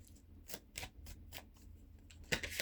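Tarot cards riffled and shuffled in a quiet room, a run of soft crisp flicks in loose rhythm with a sharper clatter of cards near the end.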